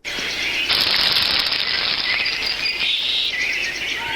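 Birds singing outdoors in spring, a dense, steady chorus of high chirps and trills against a constant outdoor background, loud and continuous throughout.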